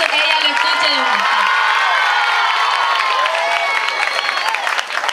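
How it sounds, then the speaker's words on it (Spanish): An audience applauds and cheers for a popular queen at a coronation event in Colombia, a steady wash of clapping and voices with a few shouts rising above it. "Un fuerte aplauso, que ella lo escuche de vuelta."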